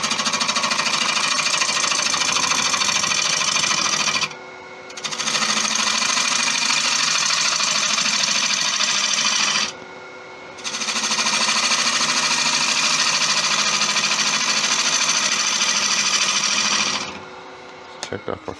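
Wood lathe spinning a chestnut burl as a tool flattens its face, a loud rough chattering cut in long sustained passes broken by two brief pauses and a trailing stop, with speech mixed in.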